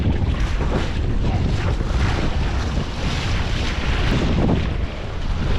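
Wind roars steadily while windsurfing in light wind on iSonic boards. A dense, loud rush of wind buffets the microphone without a break, with faint water wash mixed in and no voices.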